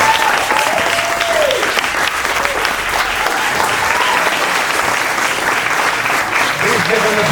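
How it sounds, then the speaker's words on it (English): An audience at a Q&A session with the creators of a web series applauds steadily and warmly, continuous clapping from a crowd with some voices and whoops underneath. "Please give them a big round of applause"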